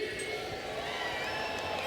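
Rodeo crowd at a night arena event, a steady wash of distant cheering and murmuring filling the space, faint and continuous with no break.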